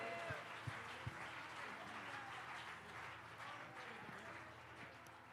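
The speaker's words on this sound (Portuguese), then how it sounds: "Aplauda mais forte ao Senhor" Applause from a church congregation during a service, a steady wash of clapping with a few sharper hand claps near the start, faint and slightly distant, with a voice talking over it.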